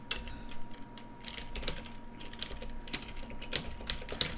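Typing on a computer keyboard: rapid close key clicks in uneven bursts, fairly quiet, with no talk.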